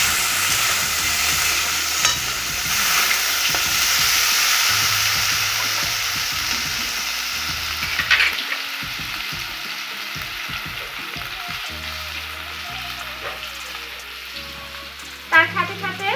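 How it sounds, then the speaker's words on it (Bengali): Potatoes and chopped tomato fry in a pan for paneer curry, giving a steady close sizzle with intermittent stirring scrapes and clinks, and a sharper rattle near the end. "কাটা টমেটো, আর লাল করে ভেজে নেব আলুটা।"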